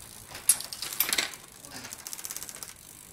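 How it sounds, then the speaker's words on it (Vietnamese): A Trinx Treme X7 mountain bike with a Deore XT drivetrain and a three-ring hollow-axle crankset clicks through gear shifts, then its freewheel ratchets in a fast, even ticking run, close and fairly quiet. "Bên tay phải em là đùi đĩa 3 tầng của Brawl, đùi đĩa trục rỗng, xuống đĩa. Lên đĩa."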